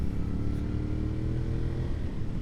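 A Honda VT250 Spada motorcycle engine putters along steadily at low revs while riding through town, a continuous low drone with wind rush over it.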